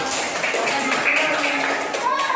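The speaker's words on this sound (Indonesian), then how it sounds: "Tepuk tangan semuanya." Elementary school pupils clap their hands together in a classroom, a dense, steady patter mixed with children's voices throughout.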